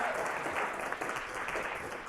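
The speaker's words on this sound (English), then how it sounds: "Let's give Rodney Kidd a round of applause." A live audience at a justice-themed talk show gives a steady, continuous round of applause, a dense wash of clapping with no gaps, moderately distant and fairly even in level.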